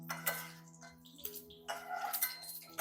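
Metal utensil scraping and clinking in a pan while mutton curry is stirred, with intermittent soft clatter over a steady background hum.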